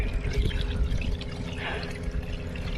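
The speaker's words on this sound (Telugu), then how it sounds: "ఇలా ఒక బకెట్ని ఫిల్ చేసుకోవాలి" Water pouring steadily into a bucket out in a farm field, a continuous close splashing fill that runs without a break for the whole stretch.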